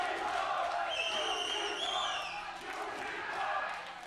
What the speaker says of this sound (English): Crowd is getting rowdy.